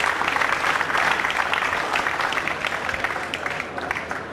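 Audience at the 2006 World 9-ball Championship pool match applauds in a loud, dense burst of clapping that slowly tapers over several seconds.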